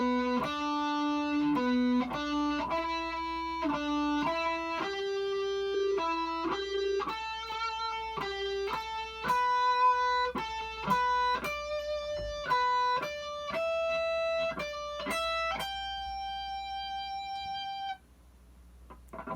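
A lone electric guitar plays a minor pentatonic scale note by note, going up three notes and back down one in a steady rhythm, fairly quiet and clean.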